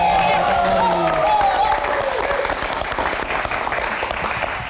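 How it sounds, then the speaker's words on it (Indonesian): A live studio audience at an evening talk show applauds for a car-expert guest, a broad wash of clapping that fades slowly while a host's voice and music sit over the opening. "Mas Fitra, tepuk tangan yang paling meriah dong."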